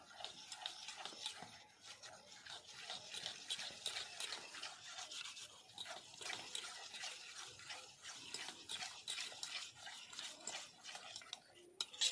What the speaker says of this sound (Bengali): এবার আমি এর মধ্যে অল্প পরিমাণ জল দিয়ে দেব। দিয়ে ভালোভাবে ফেটিয়ে নেব।